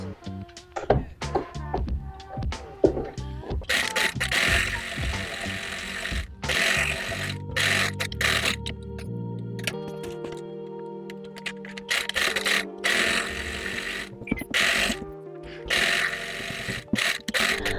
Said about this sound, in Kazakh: Енді біз осыны қазір 1 см-де тігіп шығатын боламыз.